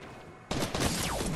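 A sudden, close burst of rapid gunfire in Fortnite, dense and loud right after a brief quiet moment.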